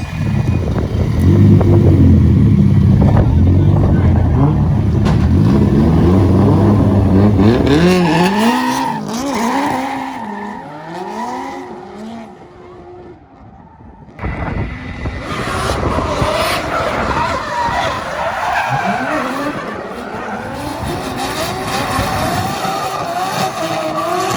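Drift cars roar at high revs while tires squeal and skid in long sweeping slides at a drifting competition final, loud and close, the engine note dropping briefly before surging again.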